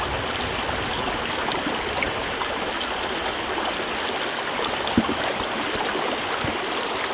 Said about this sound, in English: you want to dip it into the water and make sure all the air bubbles get out of that tube